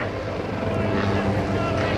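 An airshow helicopter at the 2009 NAS Oceana show flies an eight-point roll aerobatic maneuver, giving a continuous broad rotor and engine roar heard at a distance with a voice over it.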